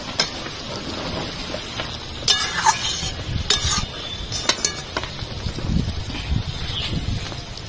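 A spoon stirs a vegetarian pumpkin and potato curry in a pan, with soft scraping, occasional metallic clinks and a light sizzle underneath, close and steady.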